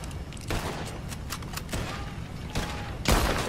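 Shootout gunfire in Red Dead Redemption 2: a scattered string of sharp shots and thuds over a steady rumble, with a heavier, louder burst near the end.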